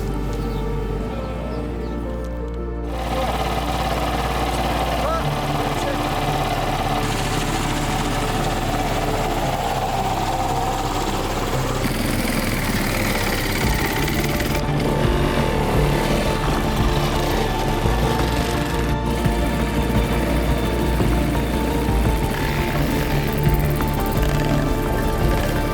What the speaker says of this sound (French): La moto pour la faire démarrer.